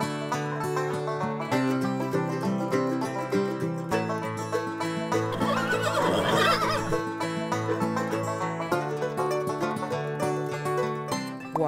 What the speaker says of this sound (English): Hello, lovely brown horse.